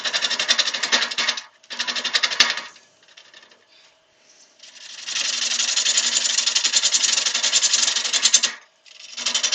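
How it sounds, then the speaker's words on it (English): A new woodturning lathe with reverse spins a silver birch bowl, giving a loud, steady whirring and scraping drone that runs in long stretches, breaks off briefly and starts again. "It's a new lathe with reverse."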